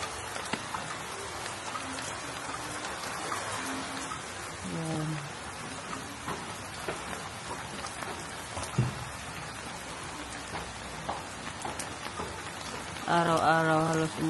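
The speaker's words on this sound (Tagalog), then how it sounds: "Yung ulan dito guys, as in napakalakas." Heavy rain pours steadily in a dense, close hiss of drops on surfaces, with a voice speaking briefly over it.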